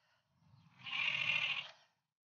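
A single sheep bleat on a farm, a drawn-out wavering call of about one second that swells and fades, moderately close and heard alone without talk.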